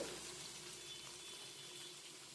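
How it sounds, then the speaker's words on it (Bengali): Onions frying in oil over high flame for chicken biryani gravy, a steady, dense sizzle that holds evenly throughout with no talking. "একটু হাই ফ্লেমে দিয়ে আমি পেঁয়াজটা ভেজে নেবো"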